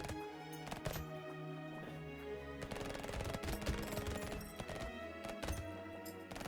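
Rapid SMG gunfire in Brotato, dense overlapping bursts of shots with clicky impacts and game effects, loud and continuous throughout with no talking.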